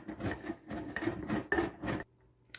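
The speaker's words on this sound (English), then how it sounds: "I'm just going to grate this, just like you would cheese" A cold stick of Amish rolled salted butter rubbed against a grater, about five close, soft rasping strokes in an even rhythm, then a brief pause and a light tap.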